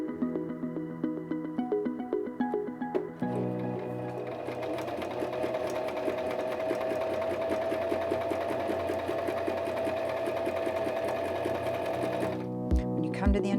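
A SINGER M3200 sewing machine stitches fabric on a long stitch length setting, a steady rapid mechanical whir that runs loud and close for about nine seconds before stopping, with a voice speaking briefly before it starts.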